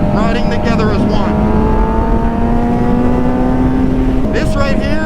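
Motorcycles that are not part of the riding group pass by with engines revving and droning continuously, loud and close, with voices talking over the engine noise.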